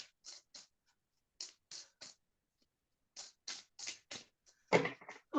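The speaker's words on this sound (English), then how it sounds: "So I shall do my shuffling." Tarot cards are shuffled by hand in a run of quick, papery riffles and soft slides, coming in short clustered bursts with brief silent pauses between, close and fairly quiet.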